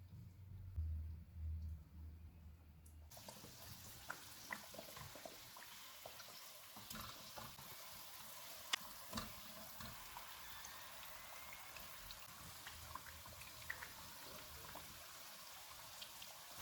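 Aloo kachori deep frying in hot oil on a medium-low flame, a steady close crackling sizzle with scattered pops that starts after a quiet moment and continues throughout, with no talking.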